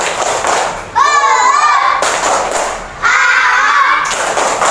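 Children in a classroom chant the rhythmic tepuk semangat clapping cheer together, their voices loud and close, with sung phrases and thumping claps in two short bursts.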